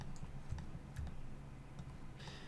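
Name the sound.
computer keyboard typing shortcuts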